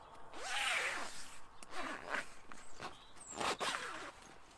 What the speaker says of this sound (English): Pull the zip back and fold that away.